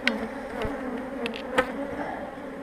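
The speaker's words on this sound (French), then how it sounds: "cette ruche a tendance à s'énerver" Agitated honeybees swarm and buzz around an opened hive in spring, a dense, close, continuous droning hum with individual bees zipping past the microphone.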